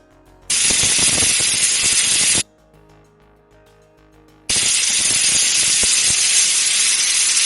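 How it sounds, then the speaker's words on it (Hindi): A pressure cooker cooking white peas lets out two loud, close bursts of hissing steam from its whistle, each lasting about two seconds, with a quieter gap between them. "यहाँ पे देखिए प्रेशर कुकर में 2 सीटी लग गई है।"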